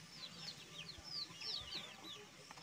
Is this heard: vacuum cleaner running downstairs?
no